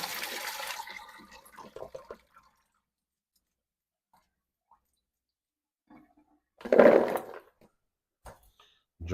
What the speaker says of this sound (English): Drained our potatoes out.